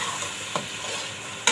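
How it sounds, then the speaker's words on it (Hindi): Whole spices roasting in a pan for keema biryani, a soft steady sizzle under light scraping as they are stirred, with a faint tap midway and a sharp metallic clink at the end, close by and without speech. "ये इसके अंदर डाल दूँगी मैं सारे साबुत मसाले और मसाले को अच्छी तरह से ना मैं भून दूँगी।"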